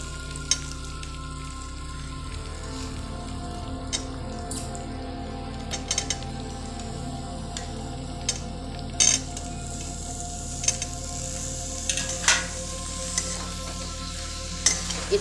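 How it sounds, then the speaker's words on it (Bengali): Jackfruit and part-boiled potatoes fry together in a pan for achor mete, a soft continuous sizzle broken by occasional scrapes and clinks of a spoon stirring against the pan. "এই মুহূর্তে আমি এঁচোড়টাও ওর মধ্যে মিশিয়ে দেব।"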